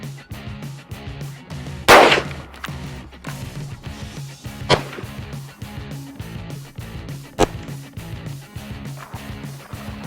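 Rifle shots from 55-grain brass hollow point rounds fired at a bulletproof backpack: one loud sharp crack followed later by two quieter reports, over a rhythmic background of music.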